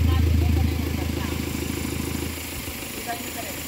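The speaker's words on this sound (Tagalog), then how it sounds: "So, sound pa lang ng makina" An Isuzu Trooper's 4JX1 diesel engine runs steadily with a low, even throb. It is loud and close for the first moment, then settles to a slightly quieter, uneven idle.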